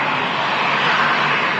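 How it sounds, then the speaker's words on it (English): Lufthansa A321 airliner touching down at Manchester Airport, a steady, loud broadband roar of jet engines and rushing air that holds evenly throughout without any voices. "Just about to touch down is Lufthansa A321, 11 years old."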